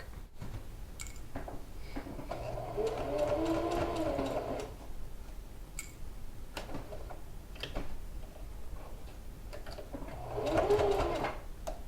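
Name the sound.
sewing machine stitching quilted coat seam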